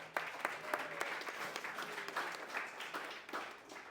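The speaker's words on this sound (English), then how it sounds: "A round of applause for LP here." An audience at a hospitality industry event in Washington, DC applauds steadily throughout, with sharp individual claps audible over the continuous patter of the room.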